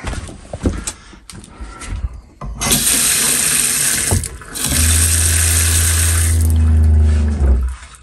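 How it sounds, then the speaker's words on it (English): Water gushes from a tap in a camper in strong bursts while a pump hums low and steady underneath, with clunks and knocks at the start and a pause between. "Here the water pump kicks off."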